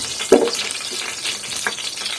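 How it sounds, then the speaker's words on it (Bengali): Bay leaves and cardamom fry in oil in a frying pan with a steady, close sizzle, marked by one louder spatter near the start and a soft stir partway through, with no talking. "এর মধ্যে দুটো তেজপাতা দিয়ে দিলাম এবং কিছু এলাচ দিয়ে দিলাম। এগুলো একটু তেলের মধ্যে ভেজে নেব।"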